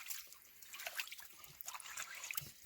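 Water trickles and drips faintly into a freshly dug hole on a trail between Unicoi and Dick's Creek Gap, a soft, continuous patter of small splashes close by.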